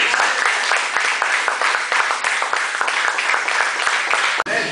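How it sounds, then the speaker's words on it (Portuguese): A church congregation gives dense, continuous applause, many hands clapping loudly and steadily for several seconds before a brief dip near the end. "Vamos aplaudir Jesus."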